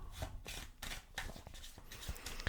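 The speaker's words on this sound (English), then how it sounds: "And I'll give it a bit of an overhand shuffle as well." Overhand shuffle of playing cards at a blackjack table, heard up close as a steady run of soft, repeated sliding swishes and light taps in an even rhythm.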